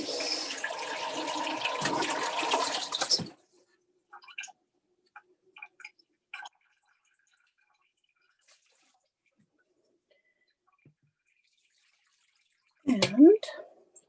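A steady stream of water is poured from a pitcher into a cooking pot for about three seconds, followed by faint clinks and a short burst of splashing near the end.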